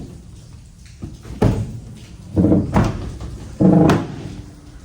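A damaged, misaligned door on a Ford Transit 250 van clunks and scrapes through several heavy movements, with three loud, close metallic thuds and rattles spaced a second or so apart, plus softer handling noise between them.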